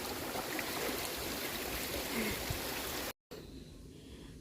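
A forest stream flows with a steady, dense rush of water up close, then briefly cuts out and returns quieter.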